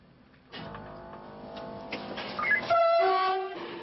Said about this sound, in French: Ronde d'essai des navettes. Des locomotives très puissantes tirent des rames de 700 mètres.